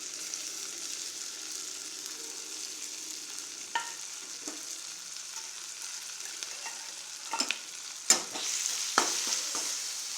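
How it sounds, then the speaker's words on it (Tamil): Ginger-garlic masala paste fries in hot oil for a potato gravy, giving a steady close crackle and hiss with a few sharp pops and spoon scrapes toward the end. "எண்ணெயில் போட்டு அந்த நல்ல மசால் வணங்கட்டும்"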